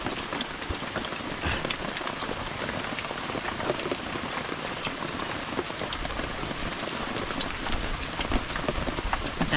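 Steady rain falls on a surface, a dense continuous patter of drops at even loudness throughout with no pauses, heard alone without voices.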